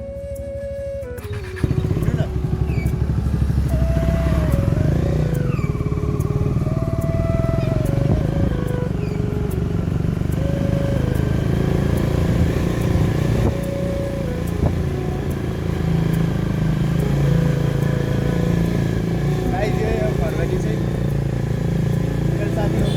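A motorcycle engine drones steadily and loudly throughout while riding uphill at Kharbani, Nepal, with a few other sounds rising and falling over it.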